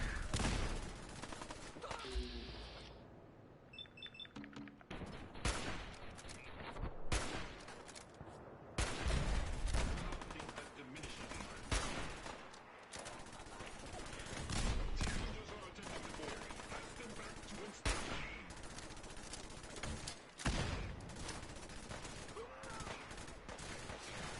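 Heavy artillery and gunfire in a shooter video game, dense overlapping blasts and volleys rolling almost continuously at high level, with bursts of rapid fire throughout.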